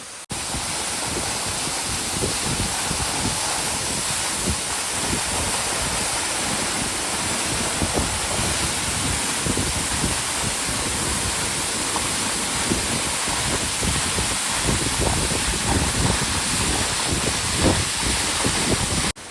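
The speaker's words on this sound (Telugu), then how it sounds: "ఈ వాటర్ ఫాల్ అయితే నాకు చాలా బాగా నచ్చిందండి" A waterfall at the Garden of Caves in Cherrapunji, Meghalaya, gives a steady, broad roar of rushing water, loud and unbroken throughout, with some wind buffeting.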